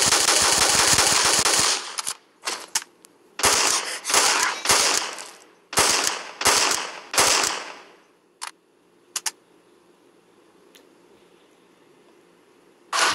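Rapid machine gun fire in a zombie shooting video game, a long loud burst followed by several shorter bursts of automatic fire, then quiet with a few faint clicks.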